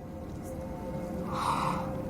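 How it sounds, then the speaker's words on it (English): A creature's breathing in Hellblade: Senua's Sacrifice, a slow drawn breath that swells into a louder rasping exhale near the end over a low, dark ambient drone. "It's breathing."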